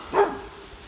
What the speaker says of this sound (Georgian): იქით კიდე ძაღლის ყეფა ისმის.